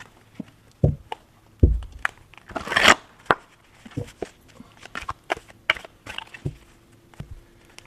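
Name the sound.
shuffling tarot cards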